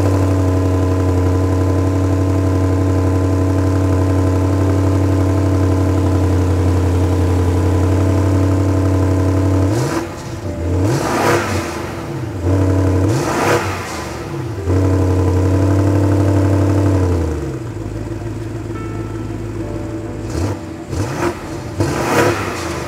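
2018 BMW M550i M Performance with a 4.4-liter twin-turbo V8 idles with a steady low rumble, then blips its throttle in several sharp revs before settling back to idle, close and loud with no talking.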